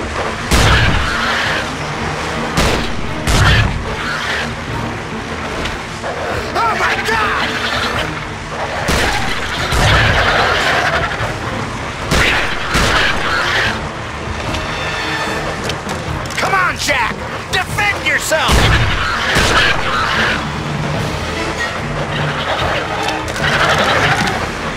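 Gunfire from Peter Jackson's King Kong on PC comes as repeated loud, sharp bursts, some spaced apart and some in quick clusters, mixed with shouted voices and game effects.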